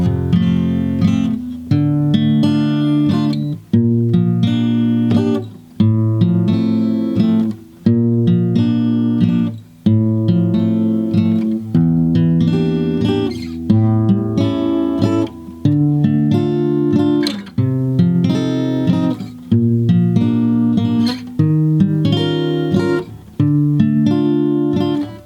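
Guitar plays the verse of a song from Breakfast at Tiffany's as an instrumental, with steady rhythmic strummed chords and a melody line over about 25 seconds. It stays loud and close with regular short breaks between phrases and no voice.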